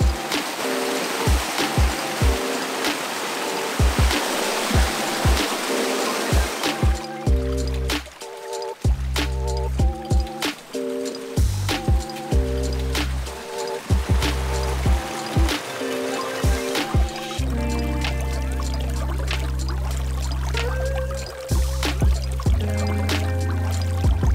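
Natural levada stream in Madeira trickling and babbling over rocks along a hiking path, steady close water flow with scattered sharp knocks and footsteps over it and a sustained tonal hum in the later part.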